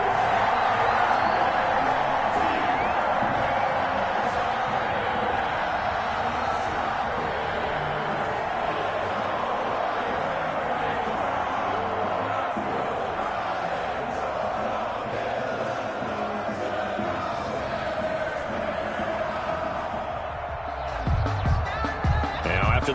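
Simulated home crowd roaring in a PS4 American football video game, a dense continuous stadium din that stays steady for most of the stretch, then thins and shifts near the end.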